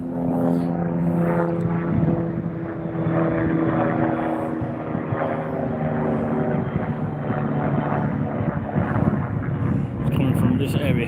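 A helicopter passes over East Town Park in Haverhill, its engine and rotor drone a steady mid-distance hum with some wind noise, while someone talks over it.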